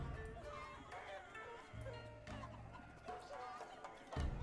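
Chickens clucking from the chicken man unit in the battle game Totally Accurate Battle Simulator, busy overlapping clucks amid a dense, noisy battle mix with talking over it.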